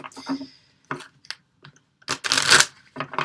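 Tarot cards are shuffled in quick, crisp bursts of riffling, with short pauses between them and a faint voice in places.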